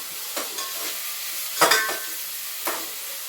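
Spices sizzle and fry in a pan for chicken curry, a steady hiss broken by several quick scraping stirs with a spoon, close and alone.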